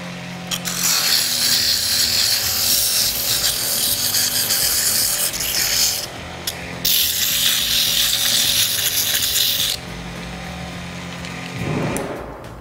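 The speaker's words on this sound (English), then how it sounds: "we have to use sandpaper to make the surface much better." Sandpaper rubs hard against a wooden frame in long, loud, continuous strokes with brief pauses between passes, close up and alone.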